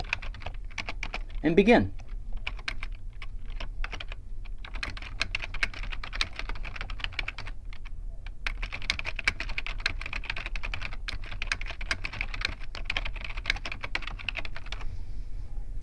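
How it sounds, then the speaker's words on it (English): Someone types on a computer keyboard in a quiet room, with a steady patter of close, light key clicks over more than ten seconds and a brief spoken phrase near the start. "what I can do here is type my name"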